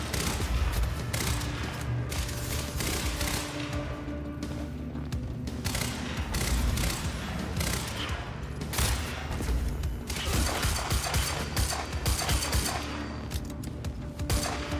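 Dense gunfire in the Quantum Break video game, a near-constant barrage of shots and booming impacts layered over game music and effects, loud and continuous throughout.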